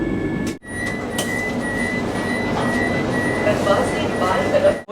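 The Puri–Howrah Vande Bharat Express, running late, rolls into Kharagpur station with a steady loud rumble heard from on board. Brief wheel squeals rise near the end, and a voice talks over the noise.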